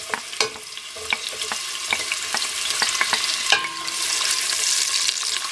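Chopped onion sizzles in hot oil in a saucepan while cooking a Nigerian vegetable soup, a steady crackling hiss punctuated by sharp spatters and occasional stirring clicks, close and fairly loud with no voices.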